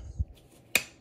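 An ECU connector on a Megasquirt MS3 Gold Lite locks into place with a single sharp plastic click, preceded by a soft dull bump. The click is close and isolated against near silence.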